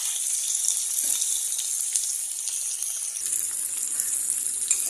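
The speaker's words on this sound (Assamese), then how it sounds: "এয়া দেখিছে ধুনীয়াকৈ একদম তেল গৰম হৈ গৈছে, গতিকে মই এয়া পিঁয়াজ দি দিছোঁ" Sliced onions and green chilies hiss in hot oil with a steady bright sizzle, close and even, broken by a few faint stirring taps and no voices.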